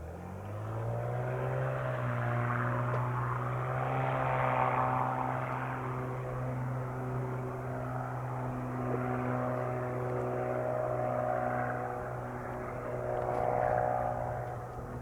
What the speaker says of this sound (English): Cirrus 7 Kilo Charlie, turn left on course, runway 8 right at Charlie, clear for takeoff.